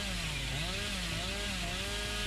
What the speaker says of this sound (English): anyone outside my terror radius can't hear my chainsaw